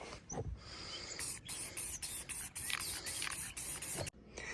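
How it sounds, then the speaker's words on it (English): An aerosol can of black spray paint hisses in a rapid series of short bursts while painting a small part, fairly quiet and close, with faint rattling between sprays. "So we're gonna spray paint that little piece black."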